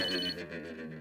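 A telephone rings with a faint, bright electronic trill that warbles in short repeating pulses, with no voices over it.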